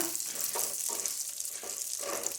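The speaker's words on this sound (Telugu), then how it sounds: "ఆవాలు, జీలకర్ర, మినప్పప్పు, శనగపప్పు, పల్లీలు వేసుకోవాలి. వీటిని వేయించాలి ఎర్రగా." Mustard seeds, cumin, urad dal, chana dal and peanuts fry in hot oil for coconut upma, a steady close sizzle with brief stirring scrapes at intervals and no voices.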